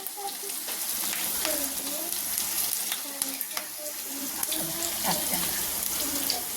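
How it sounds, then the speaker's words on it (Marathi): Garlic and green chillies sizzle in a spoonful of oil, crackling steadily while being stirred, with a spatula scraping the pan and faint kitchen background noise underneath. "आपण यामध्ये लसूण आणि मिरच्या टाकलेत बघा. आणि छान भाजून घ्यायच्या चांगल्या मिरच्या."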